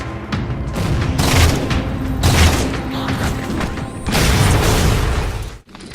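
An anti-aircraft gun emplacement in Halo 4 is destroyed in a series of heavy booms and crackling blasts, loud and close, with a rumbling tail and a sharp cutoff at the end.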